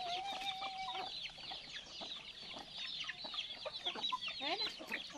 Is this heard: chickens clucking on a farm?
yes